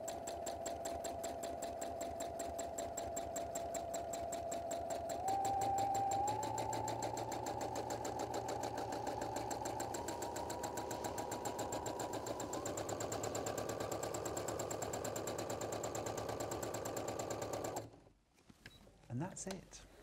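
A sewing machine fitted with a darning foot stitches an appliqué in a fast, steady mechanical hum that speeds up slightly partway through, then cuts off near the end.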